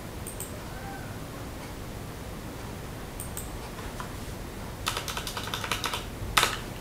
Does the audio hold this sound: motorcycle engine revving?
no